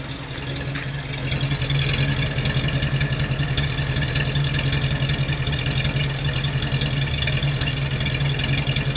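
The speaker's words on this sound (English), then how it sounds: "Let's get to that exhaust note that I love." An old estate car engine idles with a steady, rumbling exhaust note. The sound is loud, close and continuous throughout, with no talking.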